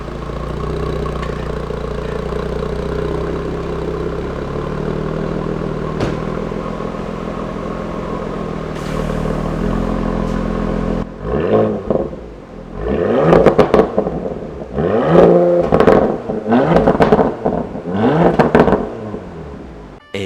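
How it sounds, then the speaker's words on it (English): A stock Porsche Macan in sport mode, its engine droning steadily for about ten seconds, then cutting to a series of sharp, loud revs with rising and falling pitch swoops, close by. "So we'll just do a quick exhaust note in sports mode or sport plus"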